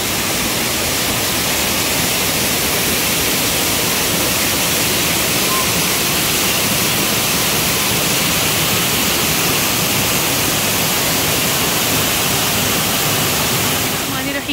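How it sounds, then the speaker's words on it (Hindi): A large outdoor water fountain in a park splashes as a steady, loud, broadband rush of falling water that continues unbroken for the whole stretch, with no clear voices above it. "वो देखो कितना अच्छा वाटर फाउंटेन है"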